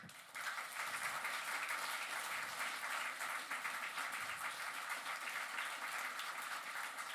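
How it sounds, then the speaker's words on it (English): An audience at a panel talk with two comic book artists gives a sustained round of applause, a steady, even wash of many hands clapping that holds throughout, with no talk over it. "give him a big round of applause?"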